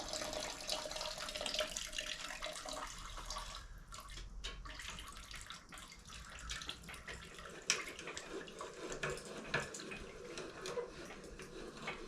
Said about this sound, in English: I lowered the front of the engine to get rid of more coolant. Still making a mess.